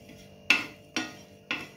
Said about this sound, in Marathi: आता यामध्ये आपण तीळ घालून घ्यायचे